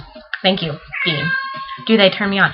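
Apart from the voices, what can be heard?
cat howling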